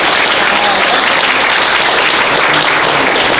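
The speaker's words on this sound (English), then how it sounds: "Give them a round of applause." Loud, continuous applause from a convention crowd at the opening ceremony of an anime fan event, a thick unbroken roar of clapping that stays level and close throughout.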